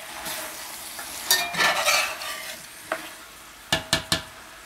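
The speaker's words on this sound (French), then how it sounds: "On met les carottes et les navets dans la préparation." Carrots and turnips tipped into a pan of rabbit stew and stirred, a soft sizzle under scraping, followed by several sharp utensil clinks near the end.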